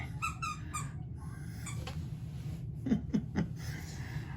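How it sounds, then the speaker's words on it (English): A dog's squeaky toy gives off a few short squeaks, including a quick run of three near the end, fairly faint over a steady low hum in a room. "Yep, that's a squeaky toy."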